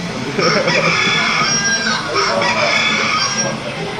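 Up close and loud, a rooster crows in long, strained calls, with clucking fowl around it and faint voices in the background.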